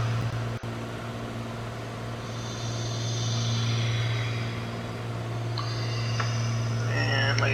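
Engine of a Piper PA-28T Arrow III in Microsoft Flight Simulator, a steady droning hum held throughout, with a brief click and some higher whining tones layered over it.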